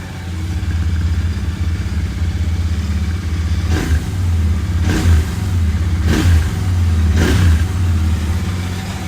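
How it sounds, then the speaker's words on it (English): A Royal Enfield Continental GT 650 motorcycle idles with a loud, rumbling stock exhaust, then revs sharply four times in a fairly even rhythm, each burst dropping back to idle. "that's the stock exhaust, and it's pretty loud and sweet sounding"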